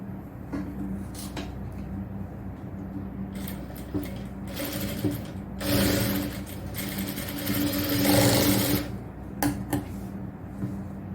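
A sewing machine stitches a frill on an XL nighty, running in several short bursts of rapid whirring with louder stretches in the middle and end, mixed with handling clatter and quiet gaps between runs.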